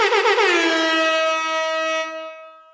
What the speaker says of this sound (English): We deserve an air horn.